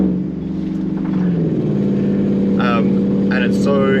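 A loud Nissan Patrol Y62 engine drones and revs steadily with a rough exhaust roar, while brief higher squeals cut through near the end.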